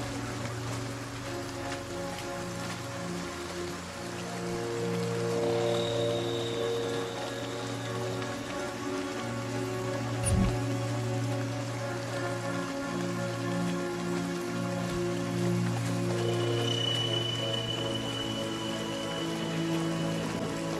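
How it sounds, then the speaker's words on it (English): Steady rain in the video game Sniper: Ghost Warrior, a continuous even patter of drops on surfaces with a low hum beneath, running alone without speech throughout. "This rain looks pretty good."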